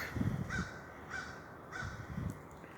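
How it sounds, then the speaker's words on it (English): A crow caws three times at a steady pace, distant over a constant background hiss of outdoor ambience. "Is that a bird or something mocking a bird?"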